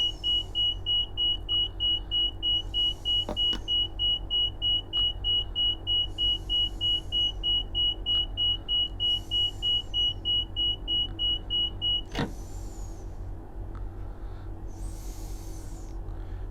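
In a train cab in the Train Sim World video game, a warning alarm beeps rapidly and continuously for about twelve seconds over a low engine rumble, with a few clicks and switch sounds before it stops.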